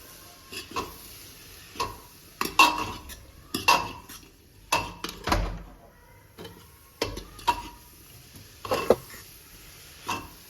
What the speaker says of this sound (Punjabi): ਸਾਰੇ ਮਸਾਲੇ ਆਪਾਂ ਦੇ ਵਿੱਚ ਪਾ ਕੇ ਚੰਗੀ ਤਰ੍ਹਾਂ ਮਿਕਸ ਕਰ ਦੇਣਾ